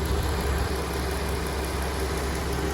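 A 2019 Ram 4WD pickup's 3.5-liter V6 idles with the hood up, a steady, close, even rumble that holds unchanged throughout with no voices over it.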